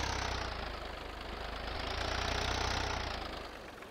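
An Indian tractor in Farming Simulator 22 runs at a steady, loud idle near a grain market, a continuous rumbling drone that swells slightly and eases off, with no talk.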